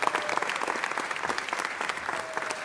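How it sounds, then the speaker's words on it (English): At a city council meeting, a room gives a park director and his squad a round of clapping that holds at a steady level and stays fairly dense throughout. "let's give Mr. Lopez and his squad another round of applause"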